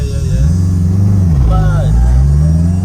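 A built gearbox in a 700bhp Honda Integra DC5 gives off a faint rising whine under a loud, close engine drone as the car pulls away, with people talking in the cabin.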